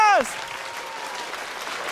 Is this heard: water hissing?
no